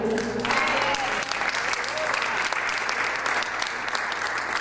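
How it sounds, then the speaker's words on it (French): Church congregation applauding during a French-language sermon, dense loud sustained clapping filling the whole stretch, with voices mixed in underneath. "Acclame maintenant si tu es là."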